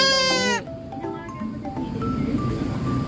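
A goat gives one loud, wavering bleat up close at a backyard goat farm, then fainter farmyard noises carry on in the background.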